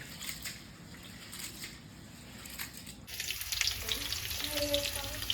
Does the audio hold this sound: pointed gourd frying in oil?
yes